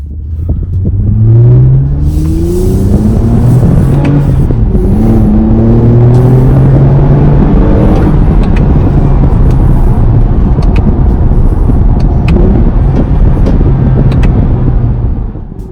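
A 2020 Toyota Camry TRD drives past and accelerates, a loud steady engine roar and rumble with rising tones that then fades, no talking.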